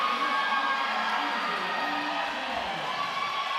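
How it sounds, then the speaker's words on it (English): A roller derby crowd cheering wildly after a lead change, a dense sustained roar of shouts and whoops filling the venue without letup. "the crowd goes wild"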